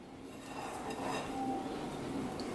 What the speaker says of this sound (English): we mix all of this together